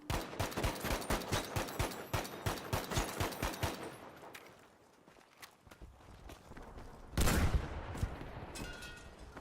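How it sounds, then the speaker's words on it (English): Rockets and gunfire in a Battlefield match aimed at a building: a rapid rhythmic burst of shots, a quieter lull, then a single loud heavy blast near the end. "Putting some rockets in on the building."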